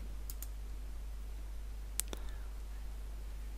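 Computer mouse clicks during image-editing work, a quick pair of faint clicks followed later by another close double click, against a steady low hum.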